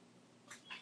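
A faint cat meow, two short cries close together near the end of a quiet moment.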